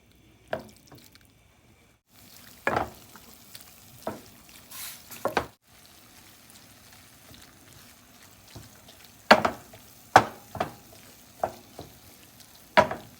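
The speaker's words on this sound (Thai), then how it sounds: "เราก็ต้องลวนหมูนะจ๊ะ ให้สุกให้สุก" Ground pork stir-fried in a pan for larb: a faint sizzle with intermittent sharp spatula scrapes and clacks, after a brief near-silent start, growing busier toward the end, with no talking.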